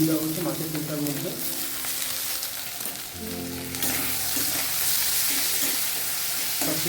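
Fish sizzling steadily in hot oil with chopped coriander leaves stirred in, a continuous loud fry with occasional stirring scrapes and a faint voice in the background.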